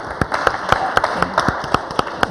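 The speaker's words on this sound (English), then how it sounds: "That I would like to give you another applause." An audience at an evening talk on sustainable food gives a short burst of brisk clapping, fairly close and steady, with no talking.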